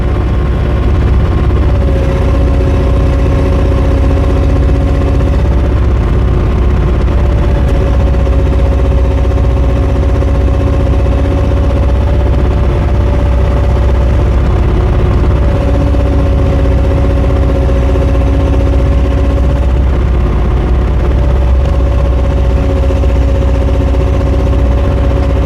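A JoyT5 JT5350 3.5-ton mini excavator runs its arm, its engine droning loud and steady throughout while hydraulic whines rise and fall on top.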